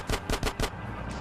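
Four rapid, loud bursts of automatic gunfire from a passenger gunner during a car chase in Grand Theft Auto: San Andreas, evenly spaced and sharp, followed by a brief low rumble.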